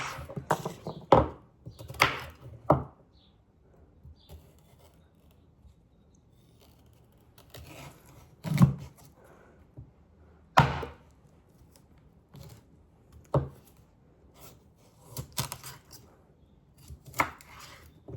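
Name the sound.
cutting vegetables into chunks on a cutting board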